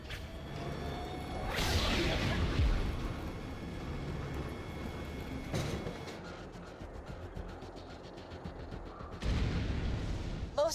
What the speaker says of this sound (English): Please fire the cannon again.